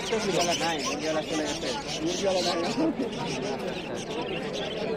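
Lovebirds chirp and chatter in a busy bird and poultry market in Tebaria, Natore, while people talk close by over them.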